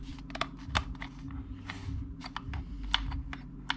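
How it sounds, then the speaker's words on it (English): A drone remote controller's top buttons are pressed repeatedly, giving a quick, irregular series of small, sharp plastic clicks close to the microphone over a low, quiet hum. "These top buttons seem to click."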